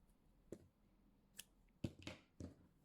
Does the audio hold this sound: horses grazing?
no